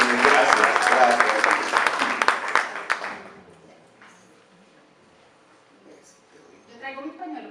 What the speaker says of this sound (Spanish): Vamos entonces a recibir a Dianita con un fuerte aplauso.